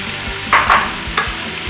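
Onion fries in a pan with a steady, close sizzle, and a few short scraping bursts come as it is stirred.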